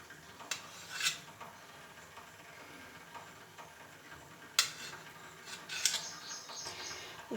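A knife cuts through boiled eggs for an egg dum biryani, producing faint scattered clicks and scraping taps against a plate or board, irregular and soft, with a couple of sharper knocks near the end and no talking.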